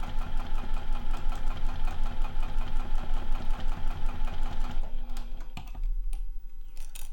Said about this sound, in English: And I'm sewing this at 1/8 inch seam allowance.